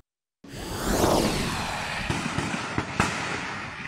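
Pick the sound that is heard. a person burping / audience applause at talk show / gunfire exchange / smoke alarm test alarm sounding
gunfire exchange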